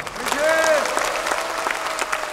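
An indoor audience applauds warmly after a speech at a large Busan leaders' rally, sustained clapping from a big crowd with a voice briefly sounding over it.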